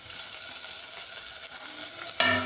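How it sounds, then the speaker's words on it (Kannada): Coriander leaves frying in hot oil give a steady, close hiss and crackle throughout, swelling into a louder sizzle near the end as more leaves hit the oil. "ಎಣ್ಣೆಯಲ್ಲಿ ಹುರಿದ್ರೆ ಕೊತ್ತಂಬರಿ ಸೊಪ್ಪು"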